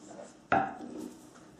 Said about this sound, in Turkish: elimizden geldiğince ince doğrayacağız